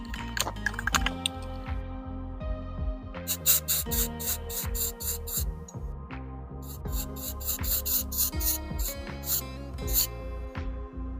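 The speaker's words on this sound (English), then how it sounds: "Alright, I'm just going to use this red spray paint." Red spray paint is sprayed onto a steel airgun target in quiet, short hissing bursts, grouped into two rhythmic runs with scraping and handling noises between them.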